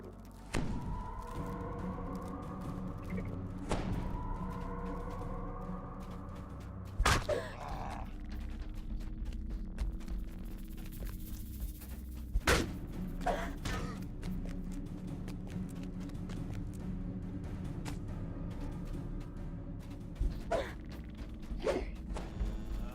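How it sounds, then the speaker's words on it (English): A heavy stone door grinds and rolls open at the base of a cavern in the game DDO, a low rumbling groan that runs through most of the span, broken by sharp thuds and clanks. "you hear the stone door at the base of the cavern rolling open"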